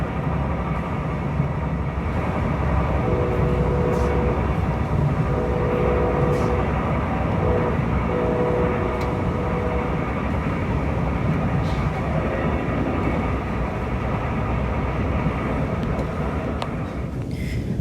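A Brightline train throttles back near Cocoa, Florida, while splitting from the FEC main line onto the Orlando track, giving a continuous loud rumble with faint tonal whines and occasional clicks, steady and close throughout.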